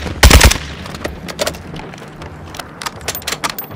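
Gunfire from a sniper rifle in Call of Duty: Modern Warfare II, with one loud close shot near the start followed by scattered fainter shots and clatter.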